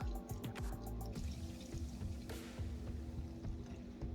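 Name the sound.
pouring whole milk into pudding mixture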